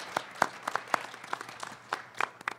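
Sparse, scattered applause from a conference audience, a handful of distinct claps spread unevenly across a few seconds, fairly quiet and distant.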